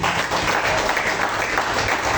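Church congregation clapping hands during worship, a dense continuous clatter of many palms filling the space, loud and without a break.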